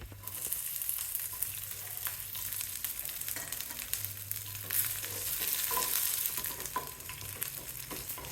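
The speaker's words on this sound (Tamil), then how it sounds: "புளி, வெள்ளைப்பூடு, வெங்காயம் இதெல்லாம் சேர்த்து வதக்கணும்" Onion, garlic and tamarind sautéing in a pan for a millet upma and chutney, giving a continuous soft sizzle with scattered scraping stirs and a low background hum, without speech.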